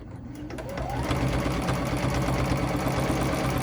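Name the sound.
sewing machine free motion quilting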